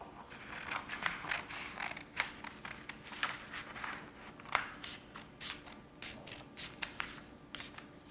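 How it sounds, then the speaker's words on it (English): Scissors cut out a paper constellation template in a run of close, crisp snips and crunches with an irregular rhythm and no talking. "The first step is cutting out the constellation."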